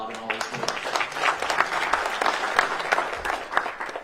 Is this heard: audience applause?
yes